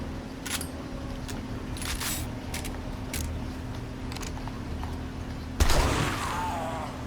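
Shotgun fire in the survival game 7 Days to Die: several sharp, separate blasts spaced a second or so apart over a steady background hum, with a heavier final shot and its ringing tail, and no talking.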